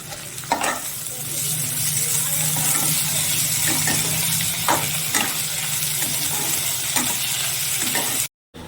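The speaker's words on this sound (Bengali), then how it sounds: "আমি আদা রসুনের পেস্ট দিয়ে দিচ্ছি। এবার এটাকে একটু কষে নিয়ে" Ginger garlic paste fries in a pan for chicken tikka masala, sizzling loudly and steadily while a utensil stirs and scrapes it now and then, then the sound cuts off abruptly.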